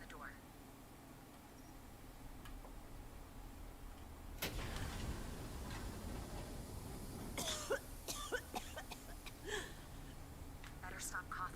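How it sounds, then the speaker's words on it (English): A sudden burst of coughing from a smoke-affected character in the Westworld VR game breaks out partway through, followed by softer clicks and shuffling noises over a low steady hum. "Better stop coughing."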